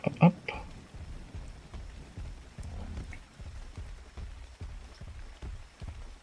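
In the video game Ark, rain falls steadily as a soft, continuous patter, with regular low thuds recurring in the foreground throughout.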